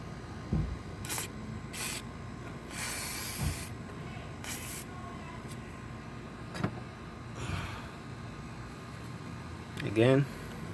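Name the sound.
spraying WD-40 on Jeep engine parts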